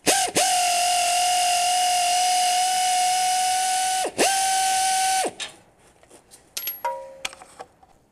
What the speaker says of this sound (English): Now I'll use an air ratchet to remove them.